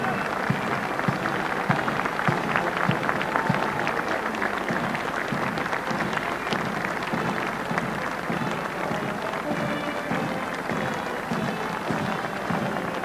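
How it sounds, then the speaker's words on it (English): A ripple of applause from onlookers lining Whitehall as blinded St Dunstan's veterans parade past at the Cenotaph remembrance ceremony, a steady, moderately distant clapping sustained throughout. "There's always a special ripple of applause down Whitehall"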